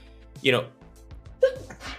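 A single short sneeze bursts out close by, followed moments later by a person speaking.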